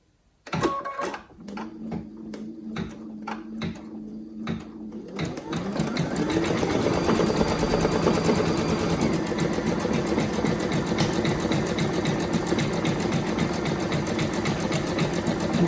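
An embroidery machine stitching a design onto a sweatshirt starts with a few separate clunks, then settles into a loud, steady, rapid mechanical whirr and chatter that runs on without any talk.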